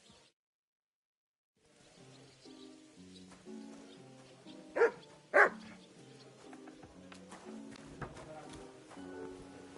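A dog in the medieval video game Kingdom Come: Deliverance II gives two sharp barks in the middle of the clip, set against soft in-game background music.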